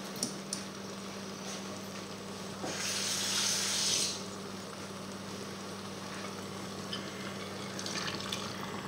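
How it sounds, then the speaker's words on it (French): Water from a kitchen tap pours for about a second in a steady rushing stream while chicken blanquette simmers quietly, a faint continuous hum and light sizzling carrying on before and after. "Je vais juste rajouter un peu plus d'eau."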